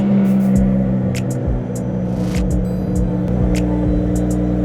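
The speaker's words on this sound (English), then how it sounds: "the car will actually rev itself to make sure that the engine coolant is actually fully bleeding out all of the air" A Toyota MK5 Supra idles and revs on its own while its engine coolant is bled, a steady close engine drone with slight rises in pitch and faint clicks above it.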